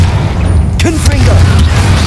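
A Confringo blasting spell goes off in Hogwarts Legacy, a single sharp burst over a low, steady rumble of game sound, loud and close in a short span.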